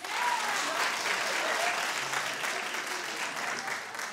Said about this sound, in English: Clap if you do that too.